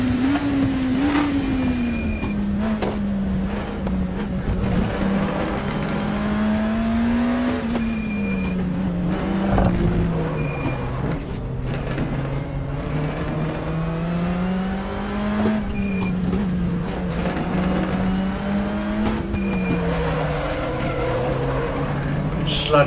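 Engine of a BMW 325 Group A classic touring car in the Raceroom racing game at Stowe, revving loudly and continuously, with pitch rising and falling through gear changes and braking, plus brief tire squeals.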